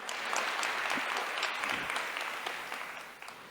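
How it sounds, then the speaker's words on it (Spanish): A church congregation claps during a Spanish-language worship service, a continuous, fairly distant wash of many hands at moderate volume, easing off slightly near the end. "Darle un aplauso fuerte al Señor."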